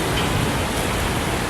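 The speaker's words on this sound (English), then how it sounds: "I want to take photographs in the rain" Rain falls steadily in Olympic Park, a dense, even hiss of drops on surfaces that stays loud and unbroken from start to finish.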